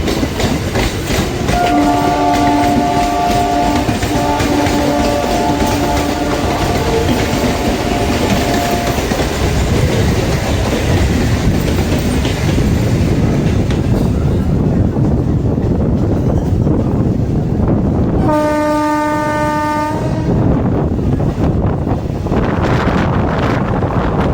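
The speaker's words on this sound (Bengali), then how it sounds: "এই মুহূর্তে আমাদের ইনগ্রাল স্পেশাল লোকাল ট্রেনের সাথে ক্রসিং হতে চলেছে train number 31822 Krishnanagar city Sealdah লোকালে" Two Indian local trains cross, one of them a Krishnanagar City–Sealdah local. A loud, continuous rumble and clatter is heavy with wind buffeting, and a horn blares in two long blasts, first early and then again near the end.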